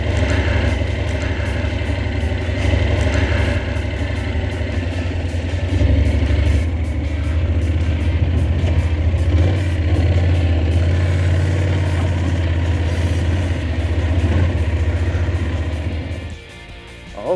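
A 2020 Honda NC750X DCT motorcycle runs in first gear, its engine giving a steady, close mid-pitched drone with road and wind noise before easing off at the very end.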